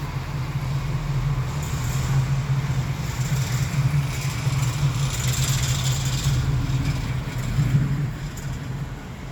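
Factory Five Cobra kit car with a lightweight fiberglass body, its engine running steadily: a low, even rumble at moderate distance with no speech.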